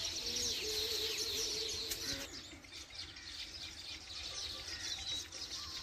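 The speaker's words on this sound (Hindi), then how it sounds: "ये जो आप परिंदा देख रहे हैं ये घुगी है, गू गू गू करने वाली" Doves call outdoors against a steady hiss of running canal water, with soft low cooing phrases and scattered chirps repeating through the clip.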